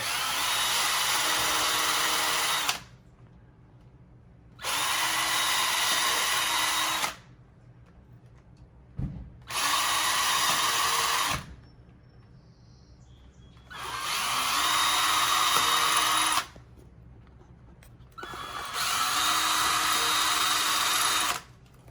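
A power drill grinds in five long bursts of a few seconds each, drilling guide holes into concrete, separated by short pauses, loud and close.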